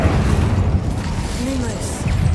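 Incendio fire spell cast in Hogwarts Legacy, a dense booming burst of flame that sustains loudly over the whole moment, with a faint whoosh and a voice murmuring beneath.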